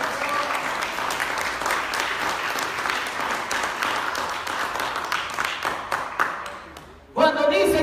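A church congregation at a missionary campaign service claps and applauds in a dense, sustained burst of many hands, fading out before a voice begins speaking at the end.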